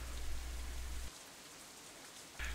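Steady rain hiss in the Katawa Shoujo game scene, loud at first, dropping to a quieter background patter for about a second and a half, then returning just as strongly at the end.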